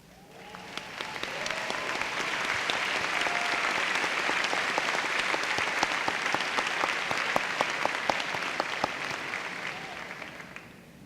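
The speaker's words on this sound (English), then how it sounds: "I ask everyone to join me in honoring these seniors by applauding their dedication to our class." An audience at a 2018 afternoon commencement ceremony applauds the seniors in a long, dense burst of clapping that swells quickly, holds steady and tapers near the end.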